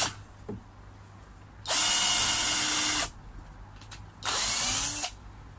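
Two loud bursts of a power drill driving screws into wood, each lasting about a second, separated by quieter handling sounds and faint clicks.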